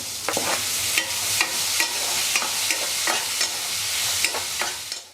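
Onions frying in oil in a pan for sambar, a continuous sizzle broken by regular scraping clicks of a spoon stirring, close and without talk.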